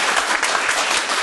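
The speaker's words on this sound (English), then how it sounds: "can we get a warm round of applause for Mr. Mayor?" A short burst of dense, steady applause from a crowd at an anniversary keynote event greets the mayor, close and fairly loud.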